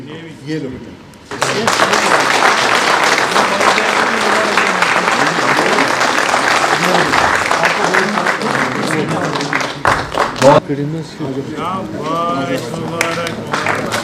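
Audience applause at an award and felicitation ceremony held by a career institute in Srinagar, a sustained burst of dense clapping that swells in and stays steady, with a voice speaking near the end.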